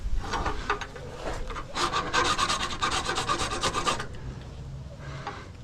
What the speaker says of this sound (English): Right where I filed it